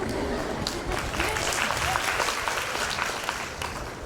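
Audience applause at a Hindi spiritual talk session, a steady wash of many hands clapping throughout, moderately loud and unbroken without clear breaks.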